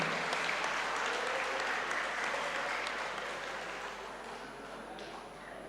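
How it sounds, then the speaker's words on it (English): An audience at an international Islamic economics and business conference applauds steadily, a dense broadband clapping that slowly fades toward the end. "please give applause for our great speakers today"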